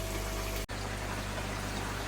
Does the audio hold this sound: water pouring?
yes